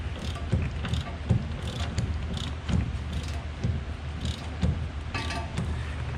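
A torque wrench ratchets in short clicking bursts, close by, while the rear spring shackle bolts on a 2001 Chevy S10 pickup are tightened, with faint metallic clanks between the pulls.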